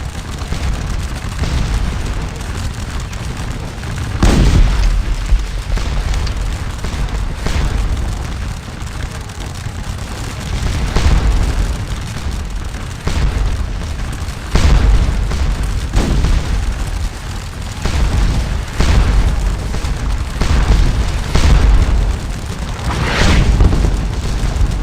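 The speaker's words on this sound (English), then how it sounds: "the Dutch National Militia are under heavy musket fire, and the 95th Rifles are under heavy cannon fire" Cannon fire in the video game Scourge of War: Waterloo, repeated heavy booms at irregular intervals over a continuous battle rumble, loud and sustained with no talk.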